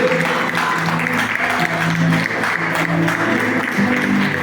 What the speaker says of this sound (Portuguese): A glória é Ele, glorifica, aplauda você.